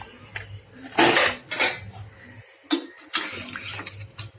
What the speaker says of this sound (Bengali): আমি কুকারের ঢাকনাটাকে খুলে নিচ্ছি